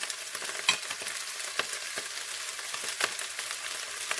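Seafood fried rice stir-fried in a pan on a hot stove, a steady sizzle under repeated scraping stirs from a spatula, close and fairly loud, with no talking.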